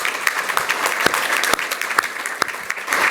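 An audience at a talk on housing and the racial wealth gap bursts into sustained, dense applause, with many hands clapping together and a few sharper individual claps standing out.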